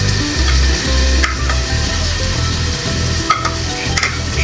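Tomato, chili and garlic mixture sizzling and frying in a hot pan while a spoon stirs it, a steady close hiss with scraping clinks throughout.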